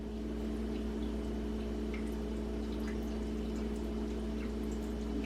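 Water pours steadily into a baking pan holding paprika and garlic chicken, a quiet continuous splashing stream over a low background hum.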